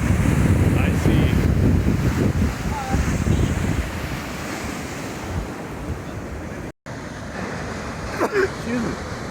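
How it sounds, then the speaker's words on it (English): Big ocean waves break on Destin beach in high wind, a loud continuous roar of surf with heavy wind buffeting the microphone. The roar eases partway through, and someone speaks briefly near the end. "They're breaking them out here pretty far from the shore. They're good sized waves."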